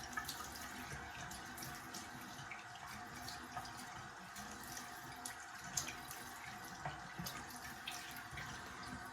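A faucet runs steadily into a sink while the face is wetted for a shave. The flow is quiet and continuous with small splashes and drips, and no one speaks.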